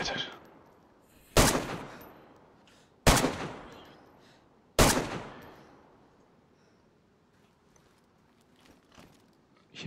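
Three sharp, loud gunshots ring out in the DayZ video game, spaced about two seconds apart, each with a decaying echo tail, followed by quieter game ambience.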